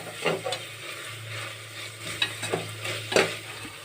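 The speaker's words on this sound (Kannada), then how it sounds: "ಕೊತ್ತಂಬರಿ ಸೊಪ್ಪು ಹಾಕೋಬೇಕು ಚೆನ್ನಾಗಿ ಈ ಥರ ಬಾಡಿಸ್ಕೋಬೇಕು" Vegetables with coriander leaves being stirred and sautéed in a pan, a steady low sizzle under repeated scraping and clinking strokes of a spoon against the metal, close and fairly quiet.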